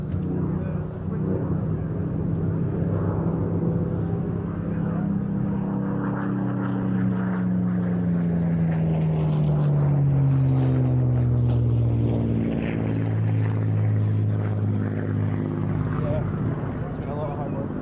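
A Supermarine Spitfire flies past at an airshow, its engine drone sustained and fairly loud throughout, swelling and shifting in pitch as the fighter passes, with no talk over it.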